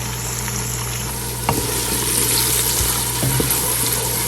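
Onions sizzle steadily in hot oil in a pot for a Lahori chicken curry, a continuous loud frying hiss with a few brief stirring clatters.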